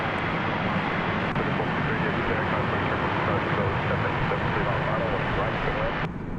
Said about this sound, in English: we've got FedEx Flight 1601 taking off from the east side. It's an MD-11 going to Indianapolis.